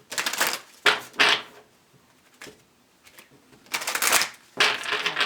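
Close-up riffle shuffles of a deck of cards in several quick bursts, with pauses and light handling sounds between.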